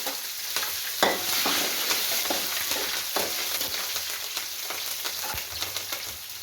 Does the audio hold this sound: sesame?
yes